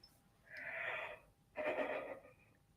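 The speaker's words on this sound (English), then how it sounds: "why am I yawning now?" Two long breathy exhalations, each lasting about a second, during a financial talk show; they are close and moderately loud, with quiet gaps between them.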